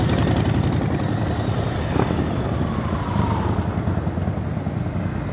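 Chopper motorcycle engines rumble steadily at a Japanese cars-and-coffee meet, a loud continuous drone with a brief sharp rise near the middle and no talk over it.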